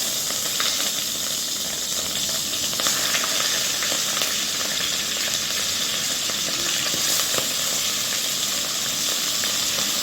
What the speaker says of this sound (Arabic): هنديها بقى تشويحة الأول قبل ما نحط المكونات عليها